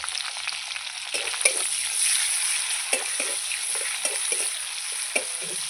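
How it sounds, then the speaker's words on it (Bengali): Onion sizzling in hot oil with tempering spices in a pan, a steady bright frying hiss with repeated scraping stirs of a spatula, close and continuous with no talking. "এবার পেঁয়াজ আর আলুটা দিয়ে দেবো। প্রথমে পেঁয়াজটা দিয়ে দেবো"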